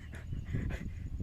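A dog pants close by in quick, breathy rhythmic bursts, brief and fairly soft, with no talking.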